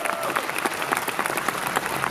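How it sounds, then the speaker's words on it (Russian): A full hall at a festival opening erupts in thick, roaring applause, countless claps blurring into a continuous wash with a faint murmur of crowd voices underneath. "Аплодисменты всего зала открываются"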